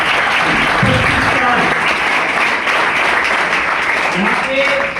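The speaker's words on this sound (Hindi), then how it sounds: "मैं चाहूंगा हमारी कंपनी के लिए एक बार जोरदार ताली दीजिए।" A large crowd claps loudly for a company celebrating its silver jubilee at a business plan show. The applause is sustained and dense across the whole stretch, with voices and cheering mixed under it.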